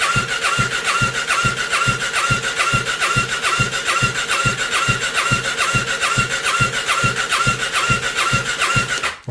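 A Triumph 675 motorcycle engine turning over on the electric starter, cranking in a fast, even, rhythmic churn that stays loud and close for several seconds without firing, then cuts off.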